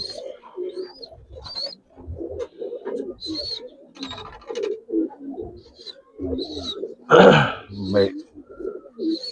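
Bagha silver Giribaj pigeons cooing in soft, low repeated bursts close by, interleaved with a voice talking throughout, and one sharp louder rustle or flutter near the end.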